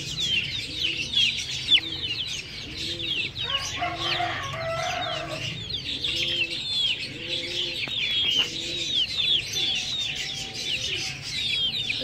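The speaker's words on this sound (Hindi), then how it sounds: "ये वाइट वाली तो बहुत प्यारी मुर्गी है मेरी, और ये रेड है।" A flock of desi chickens, white and red hens, clucks and chirps continuously, with high peeping desi chicks and a brief louder squawk in the middle.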